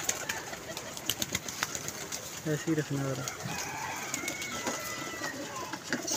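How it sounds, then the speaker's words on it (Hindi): Banded pigeons give short, low coos close by, a brief run of calls partway through, while someone talks over steady outdoor background noise. "इसके ऊपर देख लें जी कबूतर है, कैसा कबूतर है यार"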